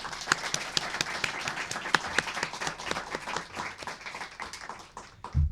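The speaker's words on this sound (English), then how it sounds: "Let's give our documentarians a round of applause." An audience at a student documentary awards celebration claps for the young filmmakers, a steady patter of many hands at moderate volume that carries on for about five seconds before fading.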